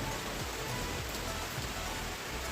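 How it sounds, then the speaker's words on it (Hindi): Steady rain falling outdoors during Dussehra, a soft even hiss of drops on surfaces at moderate distance, with a brief knock at the very end. "दशहरा में तो बारिश होना नहीं चाहिए बट हो रहा है।"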